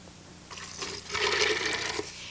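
Warm water is poured into a blender jar, a steady splashing stream that starts softly and swells louder midway before tapering off, close and heard alone.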